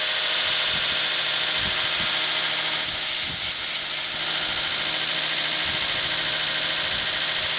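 A belt grinder flattening a blade roars in a loud, continuous abrasive hiss, close up, with a brief rise in grinding pressure partway through and no talk.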